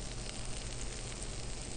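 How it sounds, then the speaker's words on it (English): Steady, broadband sizzling of food cooking on a hot surface, continuous and fairly close, with no talking. "That sizzle."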